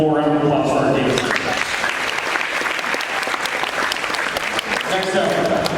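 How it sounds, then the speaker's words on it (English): Audience applause at a high school athletic signing ceremony for the dancers, loud and sustained throughout. A voice speaks at the start and again near the end, over the clapping. "Give one more round of applause for our dancers."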